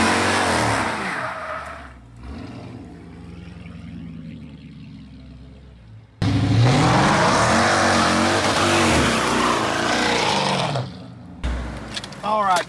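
A car engine revs hard and tires squeal while drifting with the transmission fuse pulled, loud roaring stretches broken by a quieter lull and sudden cuts, with a voice talking over parts of it.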